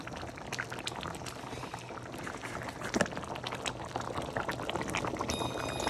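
Matar paneer gravy boiling on a gas stove, thick bubbling and popping at a constant close simmer, dense and continuous without voices.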